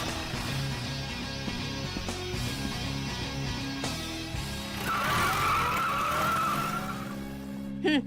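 A car skids during a chase scene in a dubbed action movie, tires squealing in a rising screech over a steady engine drone, with no talking over it.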